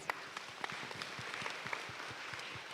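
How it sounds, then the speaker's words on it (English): Symposium audience applauding, a steady, fairly faint patter of many hands clapping in a room, evenly sustained throughout. "Let's give her a round of applause."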